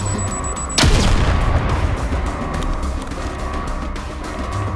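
Gunfire in the video game Gangstar Mirage City: a sharp, loud blast opens the clip, then a steady, dense rumble of combat noise carries on to the end.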